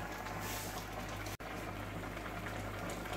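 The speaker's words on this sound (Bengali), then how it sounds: "আমার তিতা করলা তরকারিটা প্রায় রান্না হয়ে আসছে" Bitter gourd curry cooked without oil simmers in a pot, giving a soft, steady bubbling hiss that carries on evenly with only a moment's break, close by and with no voices.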